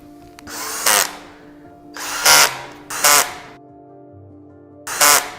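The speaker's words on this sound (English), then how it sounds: "To make assembly easier, using the X screwing method of attaching the screws." Power drill driving screws into a standing desk base during assembly, four short loud whirring bursts separated by pauses, close and clear over a quiet background.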